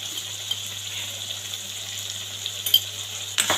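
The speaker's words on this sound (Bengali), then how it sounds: "এবার ভালো করে এটাকে কষিয়ে নেব, একটু ভাজা ভাজা করবো একটু।" Kohlrabi leaf paste seasoned with turmeric and salt sautés in an oily pan, giving a steady, soft sizzle and frying hiss throughout, with a brief utensil clatter near the end.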